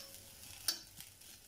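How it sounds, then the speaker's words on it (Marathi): Sliced bitter gourd dry-roasting in a pan with no oil, stirred with a spatula; faint scraping and a single sharp tap against the pan over a quiet low sizzle. "याच्यात तेलही नाही टाकायचं, सुकंच कारलं भाजायचं आहे."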